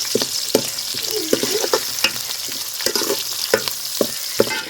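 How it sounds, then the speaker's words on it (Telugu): Curry leaves hit hot oil in a pan while cooking a carrot and capsicum dish, giving a steady crackling sizzle broken by sharp spatter pops and a few stirring clicks throughout, with no talking. "ఇప్పుడు కరివేపాకు వేసుకుందామండి."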